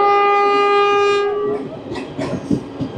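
Saffron Vande Bharat Express, train 20977 from Ajmer Junction to Chandigarh, sounds a long loud multi-tone horn for over a second, then rumbles and clatters past close by, with wheel noise and rushing air.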